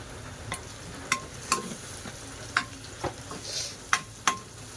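Turmeric, asafoetida, coriander-cumin powder and red chilli powder being stir-fried in a pan for dal khichdi, with a few sharp clicks of a spoon against the pan over a soft, steady sizzle.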